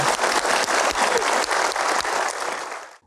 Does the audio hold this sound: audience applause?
yes